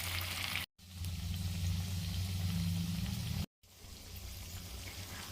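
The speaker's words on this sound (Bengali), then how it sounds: "এবারে এই কর্নফ্লেক্স মাখানো টিকিয়াগুলো তেলে দিয়ে দেবো।" Cornflake-coated flattened rice patties fry in hot oil over low heat, giving a steady, dense sizzle close by, broken by two brief silent gaps, with no talk.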